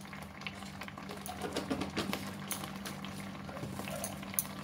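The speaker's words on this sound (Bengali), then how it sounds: "এবার ভালো করে একবার জাল দিয়ে নেবো।" A mango and sugar mixture for mango kalakand bubbling steadily in a pan, a continuous close simmering burble with no talk.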